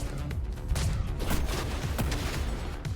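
A robot in the futuristic action game Ghostrunner fires guns in several sharp, quiet bursts, spaced irregularly over a noisy background.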